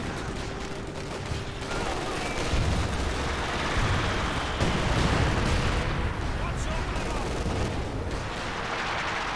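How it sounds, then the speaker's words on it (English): Artillery barrage and smoke rounds rumble through a Company of Heroes 2 battle as a dense, continuous wash of booms and gunfire that stays loud for the whole stretch. "Barrage and smoke rounds are raining on in."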